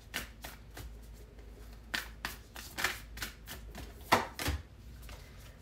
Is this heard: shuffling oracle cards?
yes